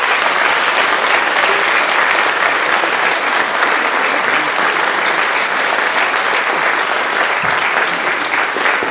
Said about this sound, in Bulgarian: Аплодисменти за солистите на Националния ансамбъл за народни песни и танци Филип Кучев.